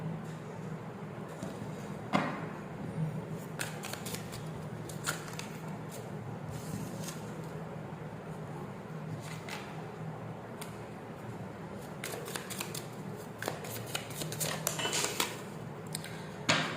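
Tarot cards being shuffled, crisp papery riffles and slaps recurring in uneven bursts over a low room hum, close and moderately quiet, with occasional sharper flicks as cards spring loose.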